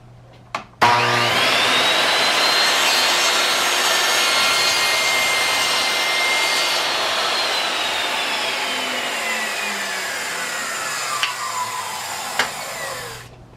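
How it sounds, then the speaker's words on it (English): A loud power drill spins up after a click and runs steadily for over ten seconds drilling through a wooden handle, its pitch slowly dropping as it bores through, then a few knocks. "you're going to drill through it"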